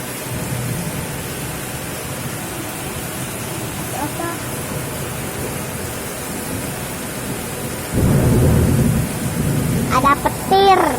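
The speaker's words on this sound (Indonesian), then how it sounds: "Ada petir." Heavy rain falls steadily and loudly during a flooding downpour, and a deep roll of thunder swells over it partway through. A voice speaks briefly at the very end.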